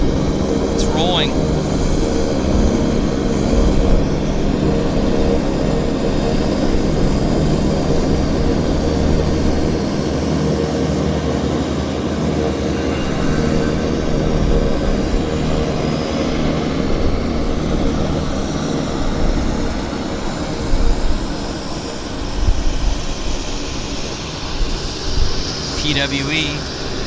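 An airliner bound for Calgary rolls for takeoff at Vancouver Airport, a steady, fairly distant engine roar and broadband rumble that holds for the whole stretch, with low voices faintly beneath it.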